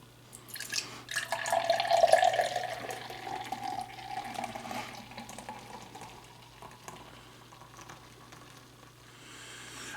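Nitro Peanut Butter Milk Stout from Left Hand Brewing Co. pours into a glass with a fizzing, hissing rush that peaks early, then settles into a faint bubbling crackle.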